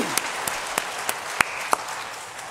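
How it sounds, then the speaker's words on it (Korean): A church congregation claps for its choir. The soft background applause is punctuated by a few sharp, separate, closer claps spaced about every third of a second. "다시 한번 박수로 격려하겠습니다"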